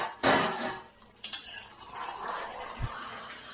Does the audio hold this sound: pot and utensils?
yes